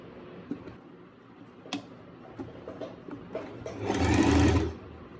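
A sewing machine stitches lace onto the folded, pressed cuffs of a salwar, with scattered ticks and handling noises first, then a steady whirring run of stitching that swells loudly near the end.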